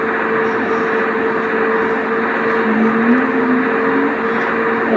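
Steady engine drone from a car being driven in a video game, with a continuous hum and a rising tone midway, loud and even throughout with no talk.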